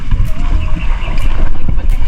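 Loud low rumbling boat engine drone with wind buffeting the microphone, steady throughout with a few brief bursts of noise.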